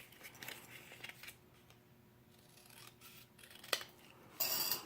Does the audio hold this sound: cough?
no